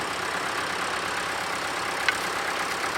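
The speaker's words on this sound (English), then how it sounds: "That's a nice tractor behind Stu, that big Ford." A big Ford tractor idles at a young farmers' ploughing match, making a faint, steady engine hum and broadband rumble with no break.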